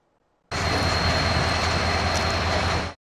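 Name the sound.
freight train carrying wheat and scrap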